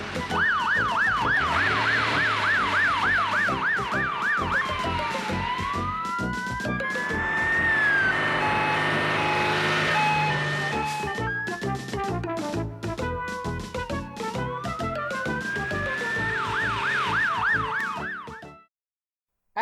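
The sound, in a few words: emergency siren sounding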